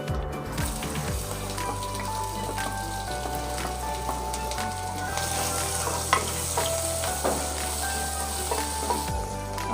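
Sliced onion sizzles in hot oil with cumin seeds in a pot, a steady crackling fry with a few stirring clinks and scrapes, close and continuous with no talking.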